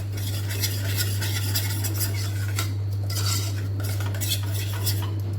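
A spoon stirs onion and potato masala curry with yogurt in a pot, scraping and clinking steadily against the metal with a faint sizzle beneath, close and continuous.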